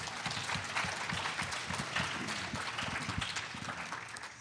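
An audience at a question-and-answer session breaks into steady, dense applause that holds throughout at a moderate, slightly distant level, with no speech over it.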